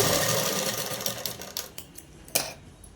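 A sewing machine double-stitching the shoulder seam of a dress runs in a fast whirring burst that slows into a few separate clicking stitches, close and clear with no talking.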